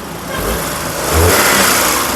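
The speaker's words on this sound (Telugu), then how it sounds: "ఇంజిన్ యొక్క నాయిస్ కూడా చాలా సైలెంట్గా అయితే ఉంది" Engine of a 2016 Maruti Suzuki Alto LXI, a small petrol hatchback, revved twice in short pulses over a steady idle, heard close by with no talk.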